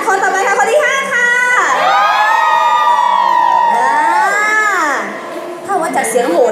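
Fans scream at high pitch in a screaming contest at a fan club event in a shopping plaza, long piercing shrieks rising and falling, loud and close, with crowd noise around them.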